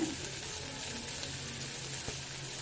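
Chopped onion with curry leaves and green chilli sautéing in a pan, a steady soft sizzle and hiss running throughout at moderate level with no talk.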